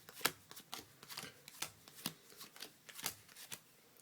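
Playing cards being shuffled by hand, a quick run of crisp riffling bursts and soft snaps at close range, with no talking.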